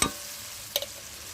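Ginger, garlic, onion and tomato paste sautéing in a pan: a low steady sizzle with one sharp scrape of a spoon near the start and another clack midway, no talking.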